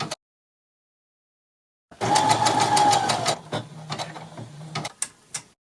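A sewing machine stitches fabric back together during a clothing alteration, starting after a short silence with a loud, close, rapid mechanical whirring and clatter, then slowing into shorter bursts and a few clicks.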